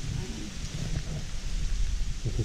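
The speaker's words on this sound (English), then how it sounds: "You hear that rain out there? That is bouncing." Heavy rain pours steadily outside an abandoned mansion in Scotland, a dense continuous hiss with low rumbling, close and loud throughout.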